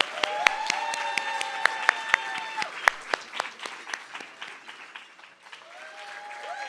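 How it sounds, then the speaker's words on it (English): An awards gala crowd applauds with a dense wash of clapping, individual sharp claps standing out near the front, fading slightly then holding on, with faint music tones underneath. "Let's give him another round of applause."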